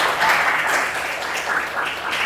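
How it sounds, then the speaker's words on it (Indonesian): Students in a junior high school football lesson clap together in a classroom, a steady, moderately loud patter of many hands with no talk over it. "Tepuk tangan."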